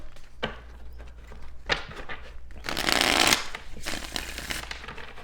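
A deck of cards is shuffled close by, with soft taps and flicks building to a dense riffling burst, then settling.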